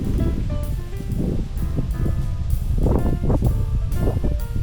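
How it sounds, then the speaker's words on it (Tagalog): Strong wind buffets and rushes in continuous gusts, with rustling and rumbling surges rising and falling throughout. "Lakas na hangin pala."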